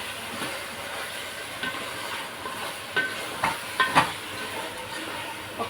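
Chicken biryani mixture with leg pieces stirred in a pot, a steady scraping shuffle with soft knocks of the spoon against the metal, close and moderate, over a faint background hum.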